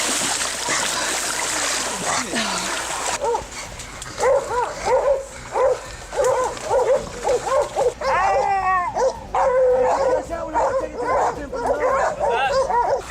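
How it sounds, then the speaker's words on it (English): Hunting dogs bark loudly and repeatedly at a feral wild pig in the Queensland or New South Wales bush, with rapid overlapping barks and yips close by. "When the dogs detect a wild pig, they will typically signal their discovery by barking loudly and attempting to hold the pig in place."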